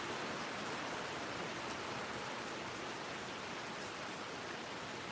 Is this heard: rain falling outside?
yes